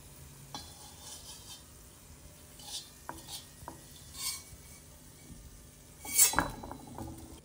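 Fried ingredients are stirred into grated raw banana chivda in a pan, with soft scraping, light clinks of a spoon and a faint sizzle, ending in a louder clatter.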